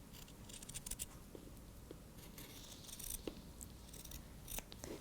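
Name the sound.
scissors trimming fabric placemat edges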